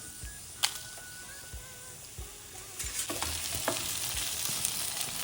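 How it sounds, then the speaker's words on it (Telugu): Black pepper, garlic and dried red chillies fry in hot oil, giving a steady close sizzle that grows louder partway through, with a few sharp taps and clinks of a spoon against the pan. "మిరియాలు వేసేసి కొంచెం వెల్లుల్లి అలాగే ఒక నాలుగు ఎండుమిరపకాయలు"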